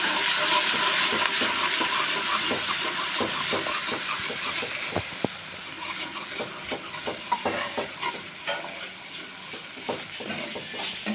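Ginger, chili and garlic paste with asafoetida sizzles in hot oil while being stirred for ragda patties, a close, loud steady hiss with scraping clicks of the spoon.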